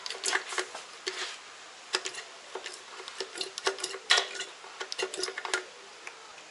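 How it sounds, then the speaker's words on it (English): Fluid being pumped out of a Ford BA Falcon power steering reservoir: a quiet, irregular run of small clicking and tapping strokes, close and faint, with no talk. "And pump out the fluid"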